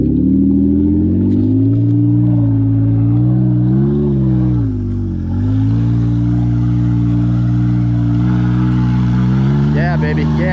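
An off-road rig's engine labours and revs loudly while climbing a rutted West Virginia trail, pitch wavering with the load, and a voice talks briefly over it.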